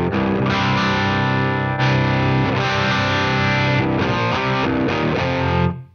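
Electric guitar played through a compressor pedal with no dry signal blended in, a sustained, dense chordal tone with a few fresh strums, steady and loud throughout before cutting off at the end.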